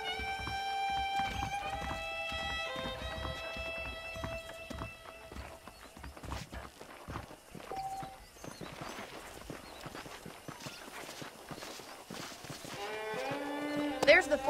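Clip-clop of saddled horses in the western video game Red Dead Redemption, steady hoof clatter under a musical score and game voices, with a brief neigh-like swell toward the end.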